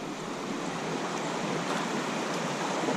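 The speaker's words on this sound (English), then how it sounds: "Oh, there's a waterfall. Like a little dam we have to go down." Small dam spilling water like a little waterfall on a river during a kayak trip, a steady broadband rushing roar that holds even throughout, moderately loud and close, with no talk.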